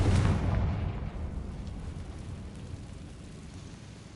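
Bombarda and Confringo spell explosions in Hogwarts Legacy: a loud, deep boom bursts at once and then trails off into a long rumbling decay, with no talk over it.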